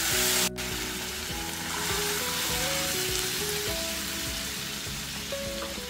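Green peas drop into a frying pan and set off a steady, close sizzle with light crackling. A sharp clatter comes at the start, and a continuous hum runs underneath.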